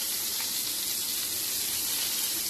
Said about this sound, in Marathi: हीच तेलामध्ये मी हा कांदा फ्राय करून घेणार लांब चिरलेला आहे मी